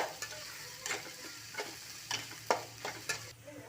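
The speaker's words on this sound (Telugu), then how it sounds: "ఇప్పుడు ఆనియన్ వేసేసుకుందాం బాగా వేయించుకోవాలి కొద్దిగా" Onion frying in oil in a pan on a stove, a soft continuous sizzle broken by about seven brief scraping stir strokes at an uneven rhythm, close by and fairly quiet.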